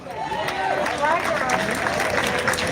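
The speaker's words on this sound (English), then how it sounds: "Please give a round of applause to William Hawkins." A crowd claps for William Hawkins at a gathering of exonerees at the Michigan Capitol in Lansing, with steady, moderately loud applause throughout and voices mixed in.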